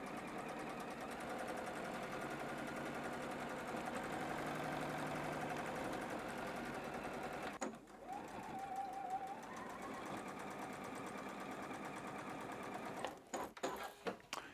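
Seams on a quilt block are stitched by a sewing machine with a steady, close mechanical hum and fast needle rhythm. It pauses briefly, then resumes and ends with a few short clicks.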